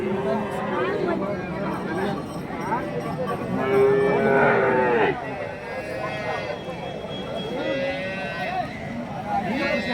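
Large cattle lowing repeatedly amid a busy crowd at the Kelamangalam cattle market in Tamil Nadu, with people talking over the animals at close range.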